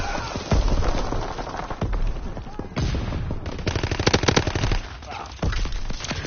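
Rapid automatic gunfire from World War II weapons in Call of Duty WW2, dense bursts and sharp single shots crackling continuously, with a voice talking over the shooting.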